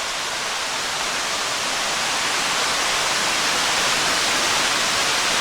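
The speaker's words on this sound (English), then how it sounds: "I hear the sound of rushing water, a waterfall-like noise" Rushing water from a waterfall beside a trail in Ohiopyle State Park pours as a steady, broad hiss that grows slightly louder, with no voices.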